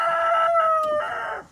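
A rooster crows with a long, clear call over softer clucking from a farm flock of chickens in a garden, close and loud, with no talk.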